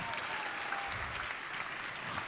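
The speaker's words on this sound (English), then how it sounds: "Let's give those friends and donors a giant AOF round of applause" An audience at an honors program applauds friends and donors, sustained even clapping heard at a distance and fairly quiet, with no speech over it.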